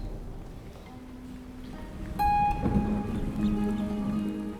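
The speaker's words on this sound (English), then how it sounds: "Until dark clouds finally bring rain." Rain arrives at the start of the wet season in an African river valley home to hippos, beginning as a soft hiss, then thickening into steady falling rain with faint rumbling beneath.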